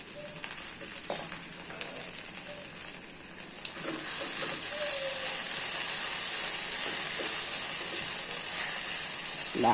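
Okra stir-fry with coconut is stirred in a hot pan. The sizzle starts moderate with a few scraping knocks and grows louder and fuller about halfway through, staying steady until the end with no talking.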